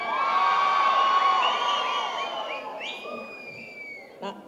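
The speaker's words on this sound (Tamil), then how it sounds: "எங்கள் சின்னத்திரை நயன்தாரா அக்காவிற்கு ஒரு பெரிய கைத்தட்டல்." A crowd at a film audio launch cheers and whoops with high shrill shouts and a sustained roar that slowly dies down, leaving scattered calls and a single sharp clap near the end.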